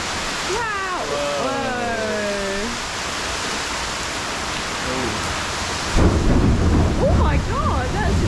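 A loud, close Florida thunderstorm: heavy rain hisses continuously, and a deep thunder rumble breaks in strongly late on. Excited voices talk over the downpour at the start and during the thunder.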